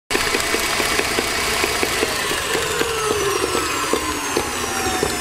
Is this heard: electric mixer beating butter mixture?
yes